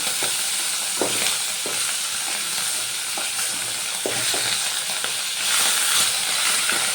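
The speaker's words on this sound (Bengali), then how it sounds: "এইভাবে আমি সব মাছগুলো ভেজে নেব" Khoira fish fry in hot oil, making a loud, dense, continuous sizzle up close, with occasional soft knocks and scrapes as the pieces are turned; no talking.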